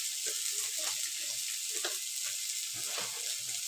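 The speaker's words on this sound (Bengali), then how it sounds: "মশলাটা কষানো হয়ে গেছে।" Spice paste of green chilli, turmeric and salt sautéing in a pan, giving a steady close sizzle with scattered crackles and occasional stirring scrapes.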